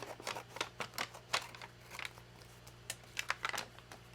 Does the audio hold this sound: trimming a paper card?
yes